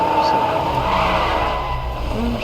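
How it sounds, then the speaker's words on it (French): In a video game, a car engine drones behind the player with a hint of tire squeal, a continuous loud rumble throughout while a player talks over it. "J'entends bien un moteur derrière moi."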